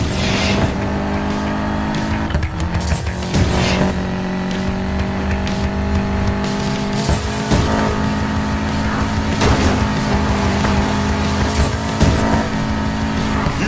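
Racing car engines roar continuously with tire squeals and skids in the video game Need for Speed Payback, loud and close with steady droning revs and occasional sharp transients throughout.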